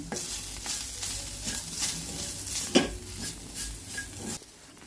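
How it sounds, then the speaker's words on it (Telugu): A masala of chili powder and a ground coriander-cumin mix frying in oil in a pan, a close, busy sizzle with repeated stirring scrapes and clinks of a spoon against the pan, and no voices. "ఈ మసాలాను ఒక్కసారి వేగనిద్దాం"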